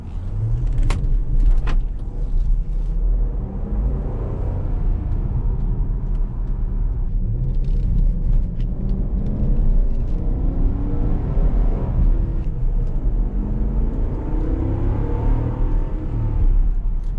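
From inside a Hemi-engined pickup truck, the engine rumbles and pulls as the truck accelerates along the road, with a steady, moderately loud drone and occasional small knocks and clicks.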